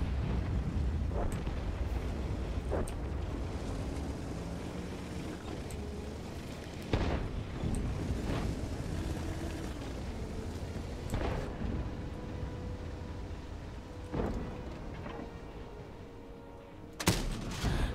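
Tank cannon shots and artillery shell impacts boom across a World of Tanks battle with the Chinese tier VIII WZ-111 heavy tank, several heavy booms scattered over the stretch between engine rumble, with a sharp close blast near the end.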